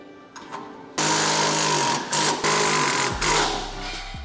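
A power tool spins a self-threading bolt into a leg assembly, a loud, close buzzing whine that starts abruptly, dips briefly a few times, and bogs down as the bolt seats.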